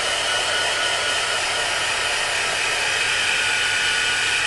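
A hair dryer blows steadily at close range to dry glue on a mixed media plate, a loud constant whirring hiss with no breaks.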